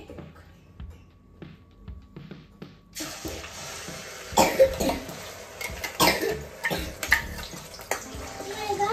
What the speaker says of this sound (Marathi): आता आपण ही टोमॅटोची प्युरी त्याच्यामध्ये ओतू